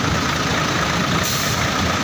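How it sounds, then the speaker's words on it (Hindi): A trailer truck speeding along a desert road in Saudi Arabia, heard as a dense, continuous roar of engine and wind noise, loud and unbroken, with no clear approach or fade. "ये देखें ट्रेलर वाले इतने स्पीड में जाते हैं।"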